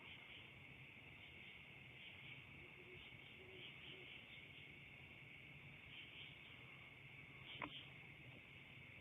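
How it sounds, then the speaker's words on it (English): Low, soft hoots of great horned and barred owls repeat faintly in the distance over a steady drone of night insects, with a brief sharp click near the end. "not only do I have great horned owls, but I just heard a barred owl as well."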